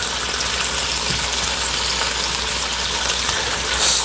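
Potatoes frying in hot oil for breakfast as coarse ground pepper is stirred in, a steady loud broadband sizzle held close and continuous with no talking.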